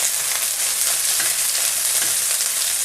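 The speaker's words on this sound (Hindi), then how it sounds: "इसको भी हमने ब्राउन नहीं करना है, थोड़ा सा इसको बस फ्राई करना है हमने" A large onion softens in frying oil, giving a continuous close hiss and crackle with faint stirring scrapes underneath.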